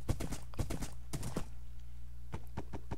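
Hooves of a white horse in a Minecraft-style game clip-clopping in quick, close, dry clusters, a burst of rapid steps, a pause, then a few more, over a low steady hum.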